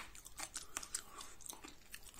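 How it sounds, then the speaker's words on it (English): Roasted silver maple seeds crunch between the teeth, a close, quiet series of irregular dry crunches and chews with no talking. "Can you hear my cheek crunch on them?"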